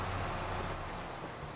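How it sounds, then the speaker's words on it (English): A truck engine in a farming video game set on a Middleburgh, NY map drones steadily and fairly loud throughout, a dense continuous rumble with no voices over it. "Like that truck has really good sound."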